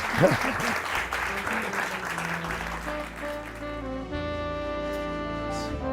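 A magic-show audience bursts into applause, loud and thick at first, then thinning out as sustained musical tones take over and ring on alone.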